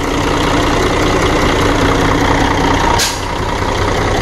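A diesel flat-top truck engine idles steadily and close by, with the governor holding a constant, even rumble. A brief hiss-like change occurs partway through, and no one talks.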